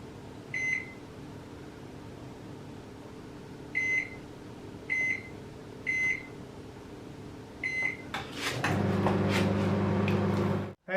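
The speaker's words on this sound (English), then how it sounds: "Soften the onions in the microwave for 3 minutes." Several electronic beeps spaced apart, then a microwave oven softening onions starts up with a steady hum close by that runs until the end.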